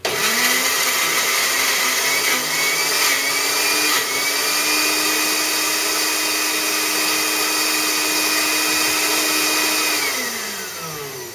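A blender whirs loudly and steadily, blending a gluten-free summer dessert mixture, then winds down near the end; no one talks.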